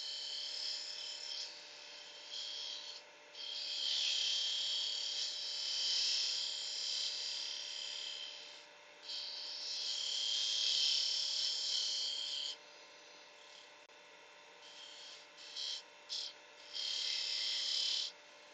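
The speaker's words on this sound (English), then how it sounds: "So a wee bit of sanding now will help you later on." Sandpaper hisses against a turned wooden goblet spinning on a lathe, in rasping bursts of several seconds separated by pauses, over a faint steady motor hum.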